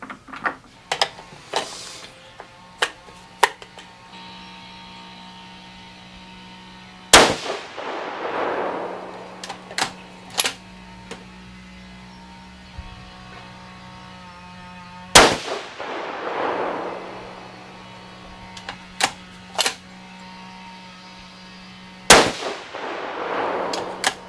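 6.5 Creedmoor rifle firing 140gr Berger Hybrid Target loads over H4350 powder: three loud, close shots spaced several seconds apart, with small metallic clicks and handling noises between them.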